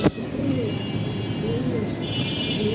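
Snow white pigeon cooing nearby, soft low warbling coos repeating over a quiet background, with a brief knock at the start and no talk.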